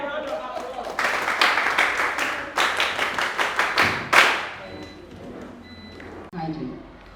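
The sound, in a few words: audience applause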